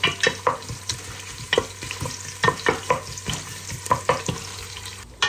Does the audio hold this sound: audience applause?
no